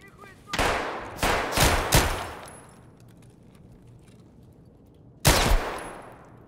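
Pistol gunfire in Single Player Tarkov, several sharp close shots in a quick cluster with echoing tails, a pause, then another loud shot near the end.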